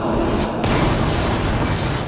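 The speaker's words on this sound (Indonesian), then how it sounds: "restoran itu pun meledak," A loud, roaring blast as a restaurant explodes, filling everything with dense noise and staying sustained, rumbling on.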